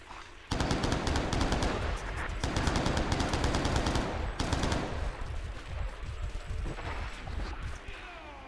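Gunfire in a survival video game on an SPB server: sustained rapid bursts of automatic fire, loud and close, stopping and starting, with a voice talking over part of it.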